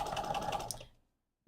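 A sewing machine stitching quilt strip pieces together runs in a quick steady rhythmic whir, close and fairly quiet, then stops.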